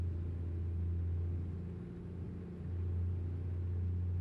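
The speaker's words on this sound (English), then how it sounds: "This truck does not pull the same as the Western Star." An International 9900i truck engine in a trucking video game rumbles as a steady, deep low drone that dips slightly midway, with no talking.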